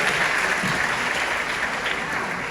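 An audience at a Hamilton musical conference panel breaks into steady applause, a dense wash of clapping sustained throughout at moderate distance.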